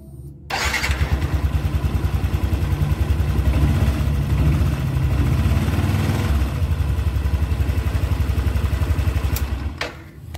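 Yamaha NMAX scooter engine with a freshly fitted NGK spark plug cranks and catches, then settles into a steady, close, even idle for about nine seconds before cutting off.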